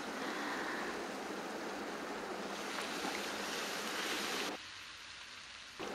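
Ginger-garlic paste and asafoetida fry in a pan as a steady, dense sizzle fills the first four and a half seconds, then drops to a quieter hiss before rising again at the end.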